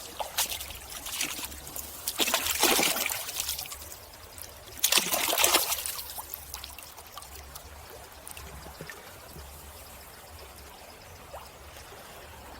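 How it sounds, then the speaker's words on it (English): Water pours and trickles into and around an old glass sauce bottle being rinsed, two louder splashing bursts early on, then a quieter steady dribble fading toward the end. "Let's give it a rinse."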